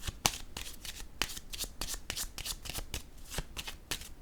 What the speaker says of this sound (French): Je vais déposer une carte sur l'intuition.